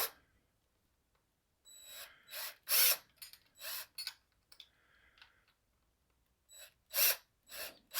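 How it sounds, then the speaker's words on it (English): A screwdriver turns a screw into a Roman shade bracket in short bursts of close, crisp ratcheting clicks and scrapes, separated by quiet pauses, with no talking. "now we're going to take the driver and we're going to"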